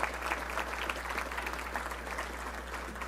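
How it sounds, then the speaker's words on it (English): Applause from an audience at a gathering honoring a man's ninth or tenth trip to Little Rock, a steady, fairly distant clapping wash over a low constant hum, running throughout. "So that's worth a round of applause."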